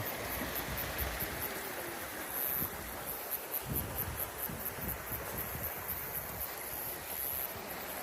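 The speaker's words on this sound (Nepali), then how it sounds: "धेरै पछि खोलाको आवाज सुन्न पाइयो हेर न कल कल कल कल" Water rushes and gurgles steadily, a continuous flowing mountain stream close by at Milford Sound, New Zealand, with some wind buffeting, no one speaking.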